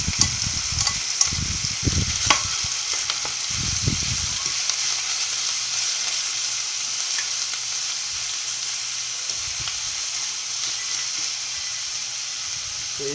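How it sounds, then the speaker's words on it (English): Chicken browning in a pan with minced ginger and garlic, a steady close sizzle and hiss with brief stirring clatter at the start, then continuous frying alone. "I'm going to brown my chicken a little bit instead of just boiling it. I'm going to toss in a little bit of ginger and garlic."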